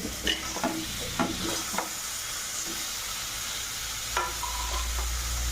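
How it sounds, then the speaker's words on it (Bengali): Cauliflower and potatoes sizzle softly in a pan while a spoon scrapes and knocks against it in several scattered stirring strokes. "দেখো এখানে ফাইনালি আমি ফুলকপিটা ভেজে নিচ্ছি।"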